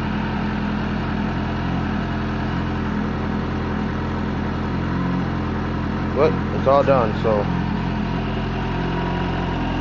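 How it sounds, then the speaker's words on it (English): A 2001 Suzuki Katana GSX600F motorcycle idles in neutral after a fall, a steady, even low engine hum running throughout, with someone speaking briefly over it partway through. "Got the bike running."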